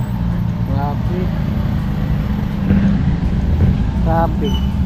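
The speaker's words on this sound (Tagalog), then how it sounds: "Traffic man." Steady street traffic in the Philippines, a continuous low roadway rumble of passing cars and engines, with brief voices speaking over it now and then.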